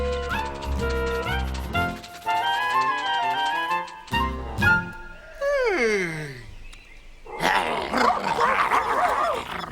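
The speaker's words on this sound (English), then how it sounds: "They're black-tailed prairie dogs." Black-tailed prairie dogs call in a series of close, high, yipping and squealing barks with descending whistle-like cries, followed by a noisier chattering burst, against a scored outdoor scene.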